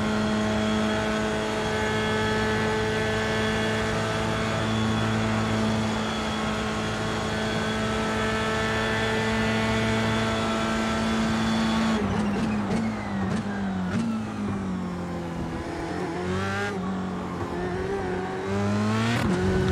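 Simulated F3 open-wheel race car engine at Spa in iRacing, a loud steady high-revving drone that drops and rises through gear changes as the car accelerates, continuous with no talk.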